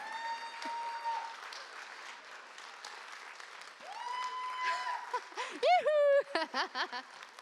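Applause from a crowd at a Chinese New Year celebration in Whitehorse, Yukon, a moderate wash of clapping beneath voices, with sharp vocal bursts near the end.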